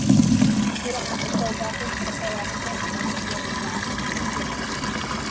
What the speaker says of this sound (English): We're gonna go ahead and get this thing filled up with 17 gallons of fresh water.